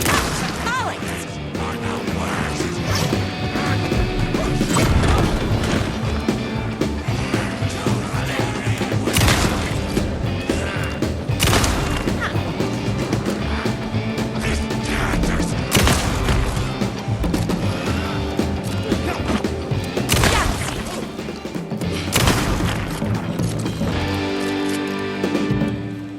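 Repeated gunshots from a firearm in the video game Alan Wake 2 crack and smash loudly and steadily, mixed with impacts and dense game action.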